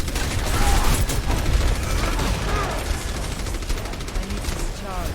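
Reinhardt launches a fire strike in the hero shooter Overwatch on Temple of Anubis, a whooshing fiery impact set within constant rattling gunfire and combat clatter, with voices talking over the fight.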